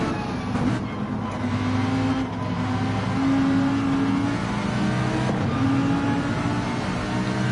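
Onboard race car engine with driver C. Brown in a URL L2 race at Deep Forest, a loud, sustained drone that holds steady with slight pitch shifts as the car runs close behind others.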